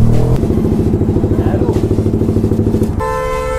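A modified Yamaha R15 motorcycle engine running close by, a rapid, pulsing throb with steady rhythmic beats, cutting off near the end as a horn-like tone takes over.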